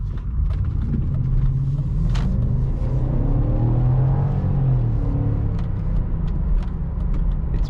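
A remapped BMW X5 E53 with the 4.4i V8 cruises on the Autobahn, a steady, loud, deep engine rumble mixed with road and wind noise and no break.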